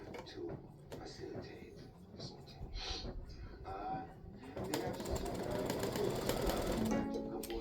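An embroidery sewing machine stitches a fabric piece for a patriotic ice cream tic tac toe game set, starting with intermittent handling noises and then settling into a steady, rapid mechanical whir in the second half, close by.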